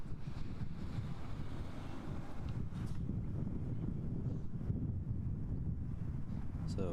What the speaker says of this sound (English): it's really hard to do with the winds here. I almost get blown over.